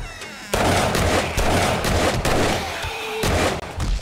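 A rapid-fire gun in 7 Days to Die rattles off loud, dense bursts of shots in quick succession, broken by a short pause before firing resumes, with no voices over it.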